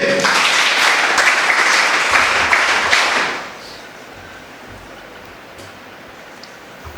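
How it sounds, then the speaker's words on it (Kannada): An audience at a school gathering claps loudly and continuously for about three and a half seconds, then the applause stops abruptly, leaving a quiet room. "ಚಪ್ಪಾಳೆ ಬರಲಿ ಪ್ಲೀಸ್"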